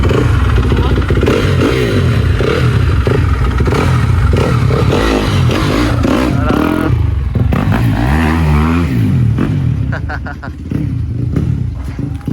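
A new motorcycle engine runs loud and close with rough revving, steady throughout and easing slightly near the end, with voices mixed in over it.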